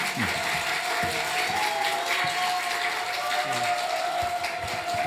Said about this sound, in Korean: 박수로 크게 환영해 주시기 바랍니다.